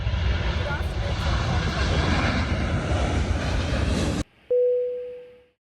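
Jet aircraft engines roar steadily at Hong Kong International Airport, a loud, continuous broadband rush that cuts off abruptly, followed by a brief tonal chime that fades out.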